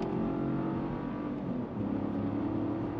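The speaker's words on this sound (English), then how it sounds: "I don't know if you heard the engine, it's noticeable" A 2024 Chevrolet Trax accelerating hard with the pedal to the floor, heard from inside the cabin as a steady loud engine drone with rising harmonic tones, no speech.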